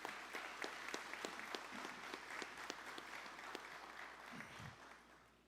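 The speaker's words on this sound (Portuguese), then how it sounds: "Salva de palmas também." Applause at a Bible Day ceremony in São Paulo: a crowd claps steadily at moderate distance for several seconds, with a short voice near the end.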